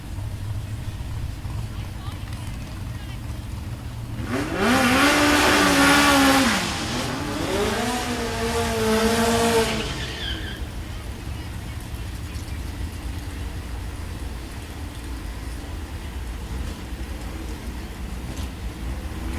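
Supercars drag racing at Mason Dixon Dragway roar past in a loud engine surge that rises and falls in pitch over several seconds, heard from a distance over a steady crowd and wind noise.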